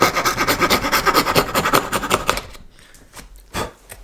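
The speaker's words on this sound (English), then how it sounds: "Just carefully make the cut, and then I come from the bottom and cut up to it." Wooden planter parts have small recesses cut into them with quick rasping, rhythmic saw strokes that run steadily for a couple of seconds and then stop, leaving a faint tap or two in the quiet.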